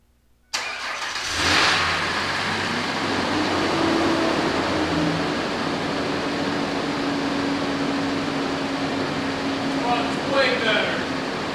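A Ford Ranger engine cranks and catches after a brief quiet, then settles into a steady, smooth idle with a faint hum, close by.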